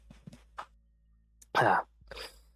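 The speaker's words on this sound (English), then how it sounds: "Bad cough." A single loud, harsh cough bursts out in the middle, with a few faint throat noises and small sounds scattered before and after in a quiet room.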